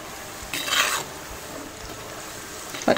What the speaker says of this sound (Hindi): अब मैं इन चनों को पलट देती हूँ